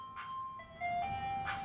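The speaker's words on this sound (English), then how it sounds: "Oh wait, there's another ice cream truck." An ice cream truck passes, its melodic chime tune playing clearly in short tonal phrases over a low steady road rumble, fairly close and continuous.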